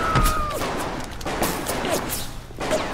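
Bursts of gunfire from the BioShock video game crackle loudly and almost continuously, with sharp repeated shots and a chaotic, dense texture throughout.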